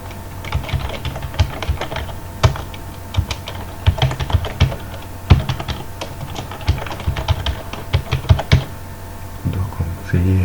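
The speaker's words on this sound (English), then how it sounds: "I'll type my email," Someone types an email address into a Google Form on a computer keyboard, producing close, brisk, irregular key taps in quick runs for about ten seconds with a faint background hum.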